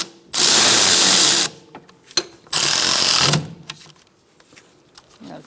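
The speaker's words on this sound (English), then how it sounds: "We're going to tighten up our bracket bolts first." A ratchet tightens caliper bracket bolts on a 2002-2006 Honda CR-V during a rear caliper job: two long, loud bursts of rapid clicking, then scattered softer clicks and handling noises.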